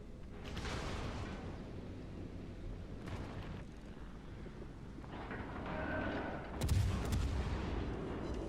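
Warship turret guns firing in the naval video game World of Warships Legends, with heavy booming salvos striking at several separate moments over a low rumbling background, the last blast loudest and nearest.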